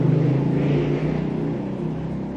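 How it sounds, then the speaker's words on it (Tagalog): Steady, loud vehicle engine drone with a low rumbling hum and brief revving swells, continuous and fairly close throughout. "Ang ingay ng sasakyan."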